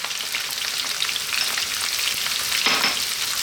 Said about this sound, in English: Let's fry these around, get them happening.